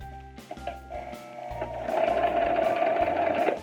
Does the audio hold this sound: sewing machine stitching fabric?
yes